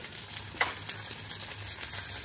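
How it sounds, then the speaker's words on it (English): Lamb shanks sautéing in olive oil in a pan at home, giving a steady close sizzle with a couple of brief sharper crackles or stirring knocks, no voices. "we add some olive oil in the pan, and we start sauteing"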